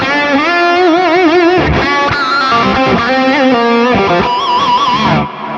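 A heavily distorted, high-gain Music Man electric guitar plays sustained, wavering notes and bends with rich harmonic overtones, loud and saturated, alone without any talking.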